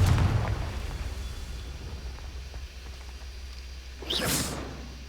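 A Confringo fire spell blasts in Hogwarts Legacy, a loud whooshing burst near the end over a dull rumbling background, after a stretch of low ambient noise.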